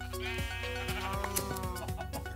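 A Minecraft sheep gives a short, wavering bleat amid light clicking game sounds, with no talking.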